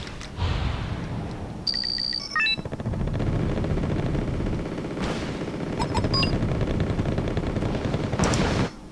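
Units trading fire in a Wargame: Red Dragon battle, with bursts of rapid gunfire and heavier booms, a few electronic beeps, and a near-constant loud barrage across the whole stretch.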